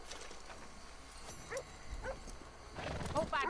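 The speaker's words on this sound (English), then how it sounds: "Hope I never have to be on that horse again." Horse hooves clip-clopping with a neigh in the Red Dead Redemption 2 video game, short hoof clops and a whinny near the end, over soft game ambience with a voice speaking.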